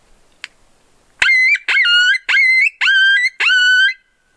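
A coyote call with an open reed, blown to imitate pup distress, gives five drawn-out whining yelps in a steady rhythm. They are loud and close, alone, and follow a single faint click.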